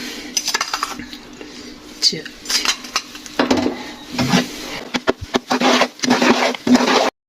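Sugar goes into a pan of chana daal pinni mix amid close, irregular clatter, with spoon scrapes, taps and patter against the metal pan coming in uneven bursts.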